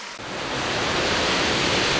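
Waterfall in the Höllentalklamm gorge in the Wetterstein massif of the Bavarian Alps, a dense, constant roar of rushing water that swells in right after a brief quiet start and stays loud and close with no voices.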